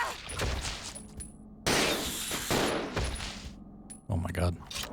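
Gunfire from Rebecca's weapon in Resident Evil 0, fighting armored spider creatures, as loud bursts of shots through the middle of the clip with game noise and some talk around them.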